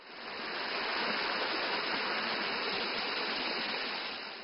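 Rushing water of a stream at the source of one of the main headwaters of the Pearl River, near Dongjiangyuan village in Sanbiao: steady, dense broadband roar, close and constant throughout with no voices.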